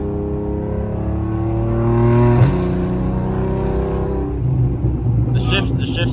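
A 2014 Audi RS5 with a straight-pipe cat-back exhaust and faulty fuel injectors revs hard, climbing in pitch, then drops sharply through a gear shift before rising again, loud and close.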